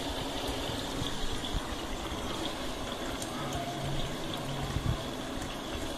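Water pours steadily into a Colormaq Pioneer twin-tub washing machine, a constant broad rushing gush with no pauses, close and fairly loud.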